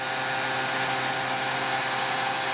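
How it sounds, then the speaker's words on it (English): A continuous whirring hair dryer on its low setting blows steadily at close range, a constant airy motor hum with no pauses. "If you want to speed up the drying, you can use a hairdryer"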